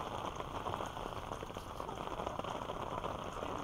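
Rain pours steadily onto a baseball field during a game, a faint, dense hiss of drops on the wet ground with no break and no voices.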